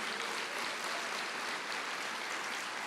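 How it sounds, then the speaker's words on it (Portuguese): A congregation at a Portuguese-language church sermon applauds in a dense, continuous burst of clapping that holds steady for a few seconds with no speech over it. "Pode aplaudir."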